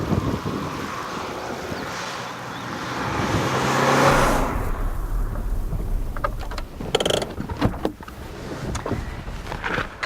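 A sports car's rasping engine note swells and fades under heavy wind buffeting, growing loudest midway before the roar of wind takes over.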